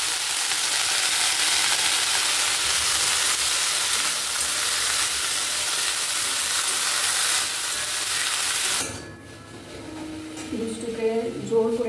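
Leafy greens hitting a hot pan sizzle loudly and steadily for several seconds, then the hiss cuts off abruptly and a voice speaks over quieter kitchen sounds.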